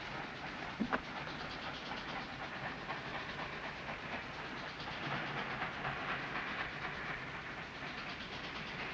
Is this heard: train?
yes